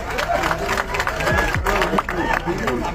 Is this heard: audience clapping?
yes